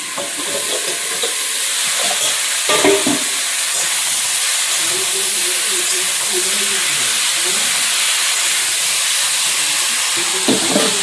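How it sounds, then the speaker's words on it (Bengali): Fish frying in a wok (kadai) on a home stove makes a loud, constant hissing sizzle with a few clatters of stirring, while a voice is faintly heard in the background. "এপাশে কড়াই বসিয়েছি এখন মাছ ভাজবো"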